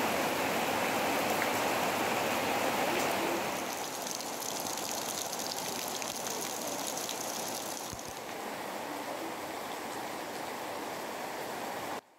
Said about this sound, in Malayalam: അപ്പോൾ അൺഎക്സ്പെക്റ്റഡ് ആയിട്ട് മഴ പെയ്തപ്പം